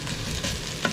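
Garlic sizzling and being stirred in a hot pan at the start of an adobo of lumà, a steady close frying hiss with a brief clatter near the end.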